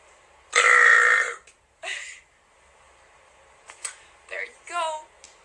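A long, loud burp comes first, followed by a shorter one and then a cluster of quicker, clipped burps close to the microphone, separated by quiet gaps.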